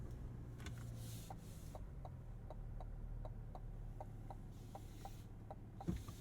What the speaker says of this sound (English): Turn signal sound.